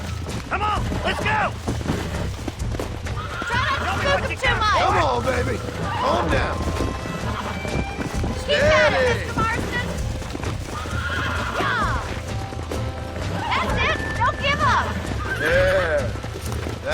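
A horse whinnies repeatedly while hooves clip-clop steadily in Red Dead Redemption, with a voice speaking over the game action throughout.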